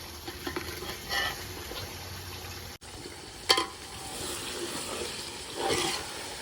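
Steady, close sizzle of meat frying in hot oil outdoors at a campsite, broken by a few scraping stirs and clinks; no voices.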